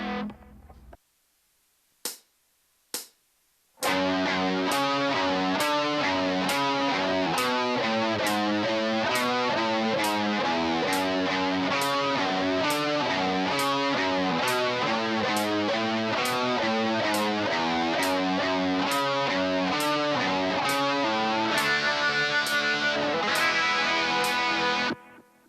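Distorted electric guitar plays a main riff at a slow practice tempo, loud and steady, with a few isolated picked notes before the continuous chugging riff and a ringing chord at the end.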